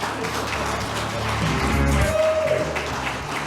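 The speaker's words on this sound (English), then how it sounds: "She's coming. Please applaud." Audience at a Women of Distinction awards event claps for an honoree coming up, a steady wash of applause mixed with background music, moderately loud and continuous.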